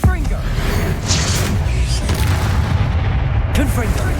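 Explosive Confringo spell blasts in Hogwarts Legacy, a loud booming burst followed by sustained rumbling battle noise with crackling debris, close and heavy throughout.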